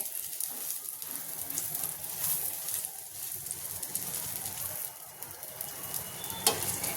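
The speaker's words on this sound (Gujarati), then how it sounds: "બીજી બાજુ પણ સરસ એવી દાબેલીને શેકી લેવાની છે" Dabeli being toasted on a hot pan gives a continuous soft sizzle and crackle throughout, fairly quiet and unbroken, with a brief clatter near the end and no talking.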